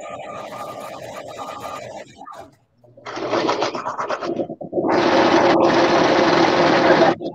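A sewing machine stitches a backstitch on a sleeping bonnet, its rapid mechanical whirring coming in two bursts after a brief pause, with faint talk and rustling early on.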